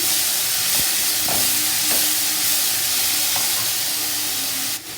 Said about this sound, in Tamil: இப்போ வந்து கட் பண்ணி வச்சுருக்கிற வெங்காயத்தை போட்டு நல்லா வதக்கிக்கலாம்